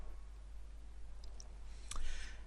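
Computer mouse clicks on a button in the game Armored Warfare: a few soft, quick clicks, the clearest near the end, over a quiet steady background hum.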